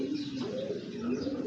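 Pigeons coo in a loft, soft rolling low calls repeating in overlapping rhythm, fairly faint and close with no talk.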